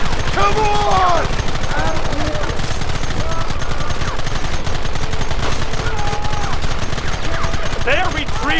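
A Red Dead Redemption firefight carries a constant stream of distant, overlapping gunshots and rifle fire under shouting voices, steady and dense throughout without pause.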